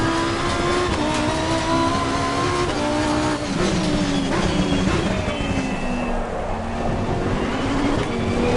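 Lamborghini Supertrofeo race cars with V10 engines race on a wet track in the rain, their loud wailing engines rising and falling through gear changes as several cars pass close by.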